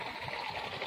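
Small homemade water pumps aerating a tank, a soft continuous gush and bubbling of moving water, fairly faint and steady with no voices.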